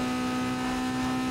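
Car engine in Need for Speed Underground 2 under a nitrous boost, a steady, loud sustained drone with a strong hum, continuous and unbroken throughout the short burst.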